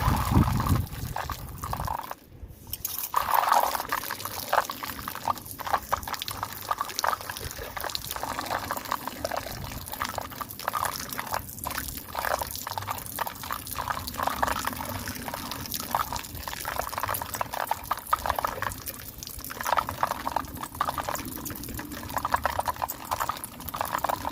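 Water poured onto compost to soak it, a continuous wet trickling and splashing that runs steadily at moderate loudness, with a brief dip early on and no voices.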